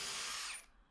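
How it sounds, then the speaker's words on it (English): Power drill spinning a combination bit that pre-drills and countersinks wood for plugs, a short loud high-pitched whir that winds down within a second. "pre-drilling and countersinking for plugs at the same time"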